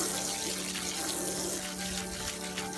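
Water running from a tap into a boat sink while a towel is washed by hand, a steady close splashing flow with slight sloshing.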